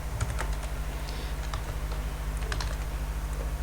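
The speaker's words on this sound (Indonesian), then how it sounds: "kita bisa masuk melalui keyboard dengan shortcut tombol Windows dan tombol R secara bersamaan" Keys clatter on a computer keyboard in a quick run of close, light taps over a steady low hum, a Windows and R shortcut being pressed on a laptop.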